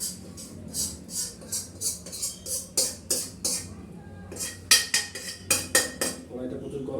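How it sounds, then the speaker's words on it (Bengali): Metal clatters and scrapes in a very hot wok as meat goes back into a biryani preparation, with repeated rhythmic strokes that grow louder and busier, close by, with no speech. "মাংসটা আবার পুরোটা দিয়ে দেবো"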